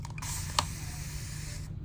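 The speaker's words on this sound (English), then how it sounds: "spray my hand off a little bit because that mica is everywhere." A single sharp spritz from a spray bottle onto a hand followed by a soft hiss, close by, with faint clicks and handling noises around it.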